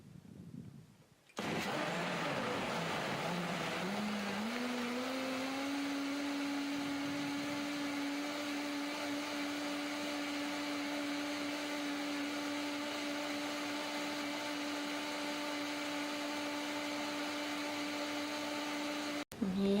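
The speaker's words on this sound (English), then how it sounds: "pop your lid on your blender, obviously making sure it's nice and secure, and then fire it up" A blender whirs through a tomato and fennel sauce, starting with a rough churn that settles into a steady, loud, smooth motor drone. It runs alone for about eighteen seconds and then stops abruptly.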